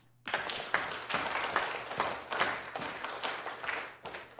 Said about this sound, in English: we clap our hands